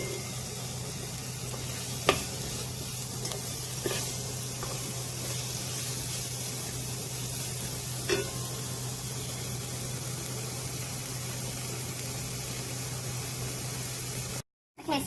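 Finely chopped onions sauteing in butter in a pan for white chicken korma, a steady soft sizzle and hiss with a few sharp clicks of a utensil, fairly quiet and without talk, cutting off briefly near the end.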